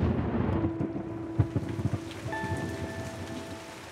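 Heavy rain falls steadily as a dense, close hiss with scattered patter and a few louder drops, plus faint tonal sounds toward the end.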